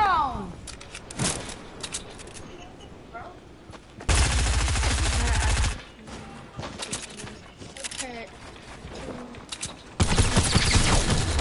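Video game gunfire crackles in two loud sustained automatic volleys, with sparser shots and game noise between them.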